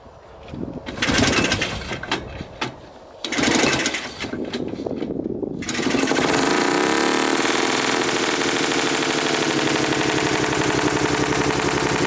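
An old hovercraft engine, off the water for twenty years, sputters through uneven starting bursts and then settles into a loud, steady buzzing drone close by.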